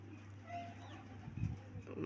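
Pigeons coo softly in a low, throaty murmur, a faint and brief call against quiet background hum.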